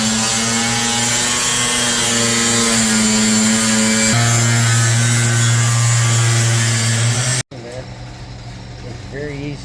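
A power saw with a harsh steady whine cuts through a new metal floor panel in a Bombardier, running loud and continuous before briefly stopping and restarting at a lower idle.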